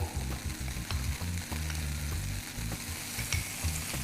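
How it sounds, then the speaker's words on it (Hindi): Cornstarch-dusted chicken pieces stir-fry in hot oil in a pan, a loud, continuous close-up sizzle with rhythmic stirring scrapes and light clinks throughout. "इसको भी हम स्टर फ्राई कर लेते हैं"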